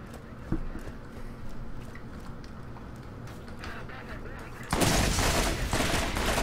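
Turret gunfire in Borderlands, scattered shots under voices at first, then a dense, loud barrage that bursts in and keeps going to the end.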